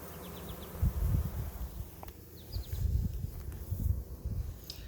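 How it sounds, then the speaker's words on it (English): A caught swarm of bees buzzes in a low, wavering drone that swells and fades in bursts, close by, with faint rustling and no talking. "Plenty of bees in there."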